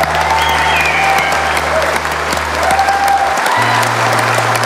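A talent-show audience at a circus act applauds loudly and steadily, dense clapping filling the whole stretch over a low sustained droning tone.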